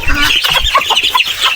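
Several chickens cluck close by on a farm in quick, overlapping bursts, a busy flock chattering without pause.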